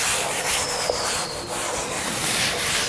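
Chalk writing rubbed off a board by hand, a steady scratchy swishing of the duster sweeping back and forth for a few seconds, close and fairly loud.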